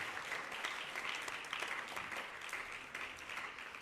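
Sustained applause from a fundraiser audience at a temple gathering, steady dense clapping filling the room for several seconds with no voices over it.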